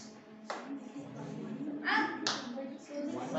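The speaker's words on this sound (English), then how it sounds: "Hey, girls, boys, clap." Students clap hands in a classroom during a math quiz, with a few sharp bursts of clapping standing out against quieter background chatter and children's voices, heard fairly distant and soft.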